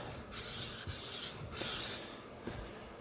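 Sabatier paring knife stroked along a whetstone at the heel to raise a burr: two or three close, bright scraping passes with short pauses between them.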